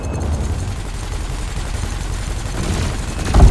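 Ship cannon and laser fire in the space combat game Elite Dangerous, a continuous dense rattle of rapid shots with a heavier burst near the end, loud and close, with no talk.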